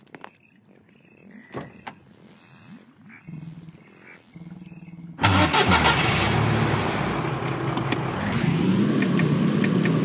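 A car engine in the Roblox game A Dusty Trip, a car prone to overheating, turns over after some quiet clicks and thumps and catches with an abrupt loud roar that keeps running steadily to the end.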